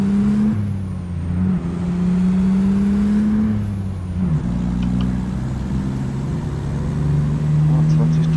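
A Peterbilt 379 with a Caterpillar 3406E rated at 550 hp, hauling 20 tonnes in American Truck Simulator, gives a loud, close diesel drone that climbs and drops between gear shifts, with someone talking over it.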